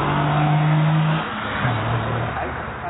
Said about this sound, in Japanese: りスタートでタイヤがホイールスピンしております。